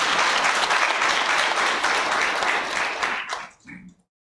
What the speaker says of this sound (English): Please, another heavy, heavy round of applause.